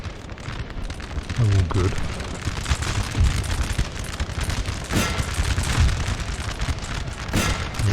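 Cannon and musket fire from a Napoleonic Total War battle mod (NTW3), a dense crackling volley with repeated booming shots rolling throughout, heard beneath a man's brief spoken remark.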